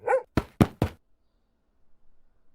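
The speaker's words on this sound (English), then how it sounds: "Sudden barking and a shout startled us" A quick burst of three or four sharp dog barks, close and loud, followed by silence and a faint low rustle.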